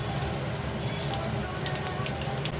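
Steady crackling sizzle of bay leaves, dried red chillies and nigella seeds frying in hot oil in a wok, continuous and close, with no talking.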